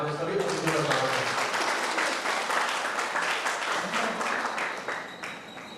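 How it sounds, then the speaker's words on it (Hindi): A hall full of people at the Astitva Matri Shakti Samman 2022 event applauds to welcome guests, steady loud clapping that continues throughout and tapers slightly at the end. "एक बार जोरदार तालियों से हमारे सभी अतिथियों का स्वागत करें"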